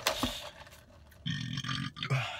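A loud, close burp after eating fast food, a short guttural belch followed by a longer drawn-out rumbling one.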